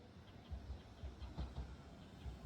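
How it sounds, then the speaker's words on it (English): A train to Matsumoto, Japan, rumbles in with a steady low rolling drone and faint rhythmic wheel clatter, moderately close, with no voices. "Here's the train back to Matsumoto"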